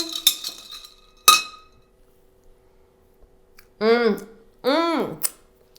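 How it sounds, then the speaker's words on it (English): A Campari, grapefruit and gin cocktail is stirred in a glass, giving a few sharp clinks at the start before a quiet pause and two short bursts of voice. "let's give this a stir. Stir, stir, stir."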